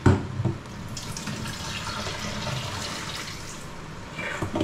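Tap water running steadily into a sink or bowl while eggplant soaks, a continuous close splashing stream with a louder knock at the start and end.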